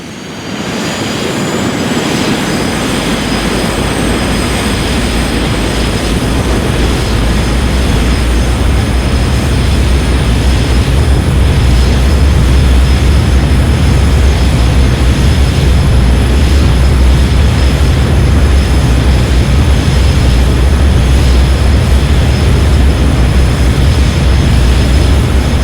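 In Flight Simulator X, the twin 9,140-pound-thrust jet engines of a Bombardier CL-600 Challenger roar steadily and loudly through takeoff, a dense sustained rumble with a thin high whine on top.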